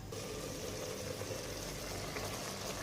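Basmati rice water simmering in a covered pot, giving a steady, even bubbling hiss throughout with no talking.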